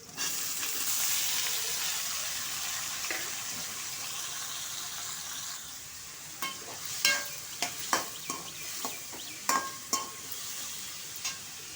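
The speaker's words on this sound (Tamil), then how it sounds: "தக்காளி வெங்காயம் பச்சை மிளகா வதங்கட்டும்" Tomato, onion and green chilies sauté for a fish curry, hissing loudly in a pan at first. The sizzle then eases under a series of sharp clatters from stirring.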